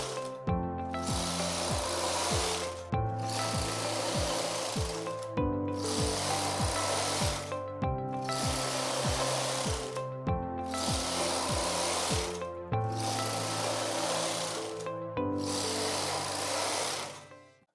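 Brother 260 knitting machine carriage knitting rows of ribbing, sliding back and forth in about seven loud rasping passes separated by short pauses, with no talk.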